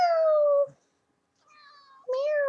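A pet cat meows twice at close range, a drawn-out call followed by a pause and then a second, rising meow, with no talk over it.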